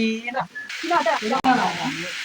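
Curry fries with a steady, close hiss and sizzle in a pan, a dish that ends up scorched. Talking carries on over the sizzle almost throughout.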